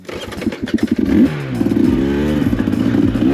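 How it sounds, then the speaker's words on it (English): A 2025 KTM 300 XCW Factory Edition two-stroke dirt bike ridden on a fall trail, its engine revving and bouncing through throttle changes with rattling clatter, loud and close. "continuation of the first ride on the 25 KTM 300 XCW Factory Edition"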